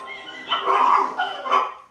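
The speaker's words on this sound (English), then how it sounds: "Dude, check out this dog." Dog in a home setting giving a few close, muffled yips or barks in quick succession, fairly loud, with no clear talk over it.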